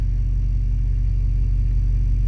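The diesel engine of a Vogue motorhome idles steadily while it builds up air pressure for the brakes, a loud, close, even low rumble with a faint whir and no talk.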